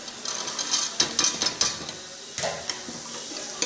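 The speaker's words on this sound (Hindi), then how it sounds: "अब मैं इसमें चने ऐड कर रही हूँ" Chickpeas are tipped into a pan of sizzling fried masala for chole, making a steady close sizzle broken by clattering scrapes and stirring knocks from a spoon against the pan.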